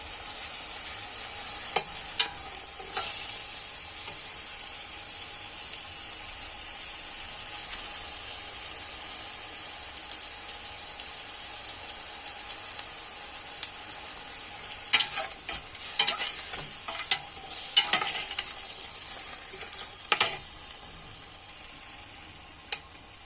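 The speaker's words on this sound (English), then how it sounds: "So and I will stir it." Rice three delights, a Nigerian dish seasoned with a Maggi cube, sizzles in a frying pan while being stirred; a continuous close frying hiss runs throughout, with clusters of scraping stir strokes toward the end.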